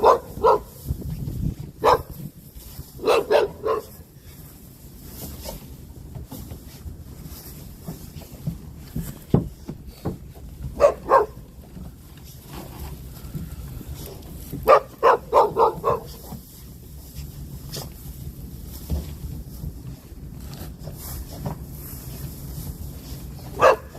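Several dogs on a five-acre property bark in bursts over about twenty seconds, sharp close barks and yips separated by short quiet gaps, with faint background noise between them.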